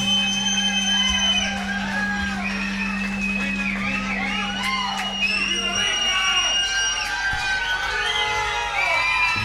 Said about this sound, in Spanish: aplauso fuerte para estos músicos